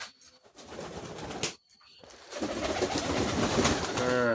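Pigeons coo in low, rolling calls close by as they come down to feed on scattered wheat, with rustling and fluttering that briefly drops out before building again.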